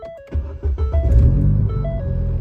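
A Ford Fiesta ST Mk7, recently fitted with a 4-bar MAP sensor, cranks briefly, fires into life and settles into a loud, close, steady idle rumble with a warning chime beeping over it.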